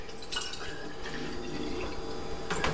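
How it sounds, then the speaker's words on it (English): Water poured from a container into a jar, a steady trickling and splashing stream that stays fairly quiet and continuous throughout, with slightly brighter splashes near the end. "Let me pour some water."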